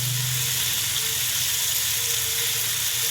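Gooseberries for pickle cook in a pan with a steady, close sizzling and bubbling frying hiss that stays constant and fairly loud throughout.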